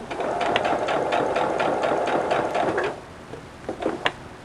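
A sewing machine stitches a rag quilt, running in a fast, rattling mechanical burst for about three seconds, then stopping, followed by a few light clicks and taps.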